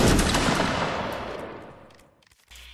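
A massed musket volley in Mount & Blade: Warband Napoleonic Wars erupts as one loud, crackling blast that rolls and fades over about two seconds, then falls to near silence before faint ambient noise returns.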